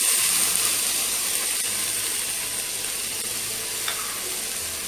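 Jackfruit seeds go into a hot pan on a gas stove, giving a steady, close sizzling hiss with a faint clink partway through and no talking.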